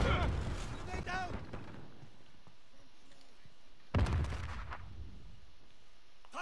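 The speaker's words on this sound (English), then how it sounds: "Grenade down!" Grenade blast in Call of Duty Modern Warfare hardcore multiplayer: two loud, booming explosions a few seconds apart, each fading into a low rumble, with gunfire and voices in between.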